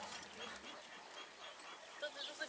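A large black-grizzled Kangal dog gives a few faint, brief high whimpers over quiet background noise.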